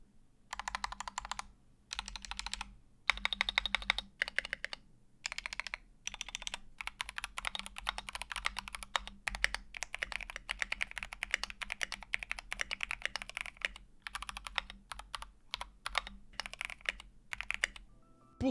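Someone types on an ACO 3068B custom prebuilt mechanical keyboard in quick, uneven bursts of sharp clacky keystrokes, close and clear, with brief pauses between runs and no talk.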